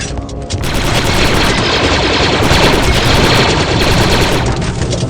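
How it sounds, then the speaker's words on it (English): Blaster fire from the Star Wars: Republic Commando video game: dense, rapid bursts of energy-weapon shots with heavy booming impacts, loud and continuous, crackling in layered volleys. "Watch that blaster fire."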